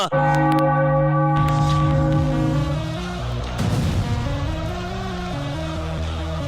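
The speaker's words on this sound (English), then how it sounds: "Ring the bell." A large bell rings out loudly to celebrate a Philadelphia Phillies baseball win, its long resonant tone sustaining and layering as it swells, with crowd and stadium noise underneath.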